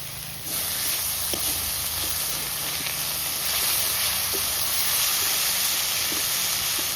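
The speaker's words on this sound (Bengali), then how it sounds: "মশলা প্রায় কষানো হয়ে গেছে" Spice paste with tomato, turmeric, salt and oil frying in a pan, a steady close hiss and sizzle that holds on throughout with no talk.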